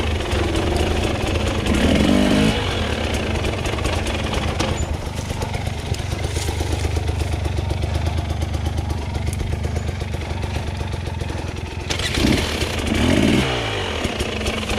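A Husqvarna TE300i two-stroke enduro motorcycle starts and runs on a hard enduro single track, its loud close engine crackling and idling with blips of revving and a rough restart near the end.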